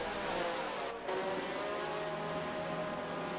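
Race cars in a sim racing game at Watkins Glen, a steady high-pitched engine drone with layered engine tones holding throughout, one brief dip near the start, with no talk over it.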